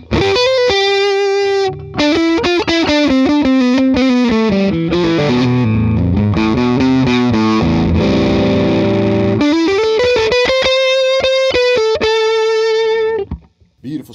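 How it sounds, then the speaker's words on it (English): PRS Special 22 electric guitar on its narrow field pickup with added gain, a driven, distorted run of quick riffs and chords, loud and close with a brief pause near the start. "Here's the narrow field by itself. Put a little gain on that."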